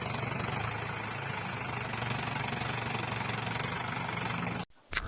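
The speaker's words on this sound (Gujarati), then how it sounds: "આ ટ્રેક્ટર હાલે અહીંયા" A steady, low tractor engine idle rumbles continuously at close range, then cuts out abruptly near the end with a brief thump.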